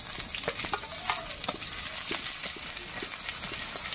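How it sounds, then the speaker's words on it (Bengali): Chopped onion, chilies and garlic fry in oil in a pan with a steady close sizzle, broken by soft scraping stir strokes at irregular intervals, and no one speaks. "একটু লাল লাল করে ভেজে নেব।"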